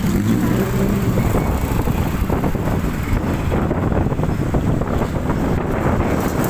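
Steady, loud wind rush and road noise buffet the microphone while riding a Viar electric motorcycle on a road test, continuous throughout with no voices.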